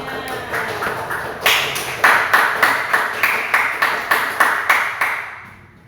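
An audience claps together in a rhythmic burst at a classroom presentation, the sharp regular claps growing louder partway through and then stopping.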